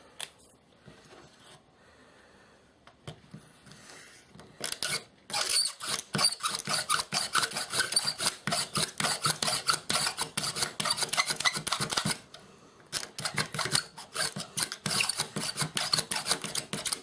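A wooden bow drill spindle, cracked and bending, turns in a wooden hole with rapid, rhythmic back-and-forth squeaking and grinding strokes, starting quietly and growing loud and continuous with a short break midway.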